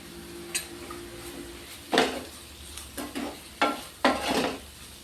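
Chopped onions sautéed with salt in oil for a colocasia leaf curry: a handful of spatula scrapes and stirs at moderate distance, spaced irregularly over a faint steady hiss.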